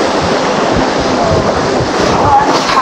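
Surf washes steadily along the seaside at a resort in Cadulan, Dimasalang, Masbate, a continuous loud rush of breaking waves mixed with wind buffeting the microphone.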